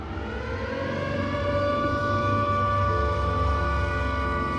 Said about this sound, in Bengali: ফ্যাক্টরির শেষ শিফটের সাইরেন বেজে উঠল